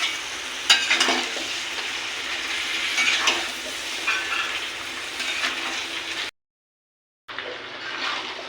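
Eggplant goes into a pan of frying beef and potato curry, setting off a steady loud sizzle with stirring scrapes and clacks, broken by a second of silence before the sizzling resumes.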